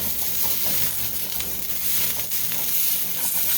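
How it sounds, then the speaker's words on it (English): Chopped onion sautéing in butter and olive oil, a dense, steady sizzle and crackle that runs continuously at close range with no talking. "I'm going to saute that onion in this butter and olive oil"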